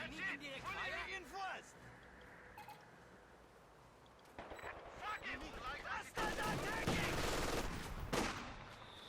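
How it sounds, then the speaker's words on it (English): Rattling gunfire and rifle grenade bursts come from a Company of Heroes 2 battle, with game effects building in loudness under steady commentary from a voice. "Quite a bit of shooting there. Rifle grenades off again."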